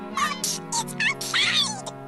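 A kitten meows several times in quick succession, high and close, with rising and falling squeaky cries.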